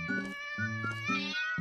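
A cat in a Roblox video game meows three times in quick succession, loud and close, each call a bright, nasal whine with no other sound behind it.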